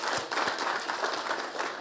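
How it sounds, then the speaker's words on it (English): An audience at an innovation day event applauds, a dense steady patter of many hands clapping at moderate volume with a few sharper individual claps near the start, continuing without pause. "So we should definitely give a massive round of applause to Russell and the team here."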